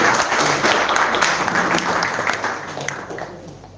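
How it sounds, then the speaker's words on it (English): A crowd at a live startup event in a hall claps to welcome a speaker on stage, full applause that starts strong and slowly tapers off toward the end, with no talk over it. "So let's have a huge round of applause and welcome our today's"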